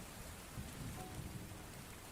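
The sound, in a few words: rain sound effect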